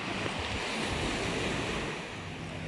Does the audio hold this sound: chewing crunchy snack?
no